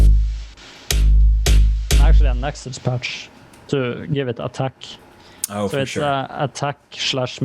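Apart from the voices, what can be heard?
None of the usual background noises is heard.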